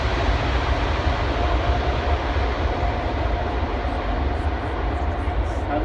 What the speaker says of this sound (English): So the 380 touching down.